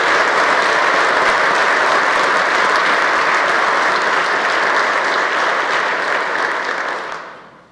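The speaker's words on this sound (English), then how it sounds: "they deserve a round of applause. The people of Kansas do." Sustained audience applause at the Kansas State of the State address, a loud, dense wash of clapping from a large crowd that holds steady for about seven seconds before fading out.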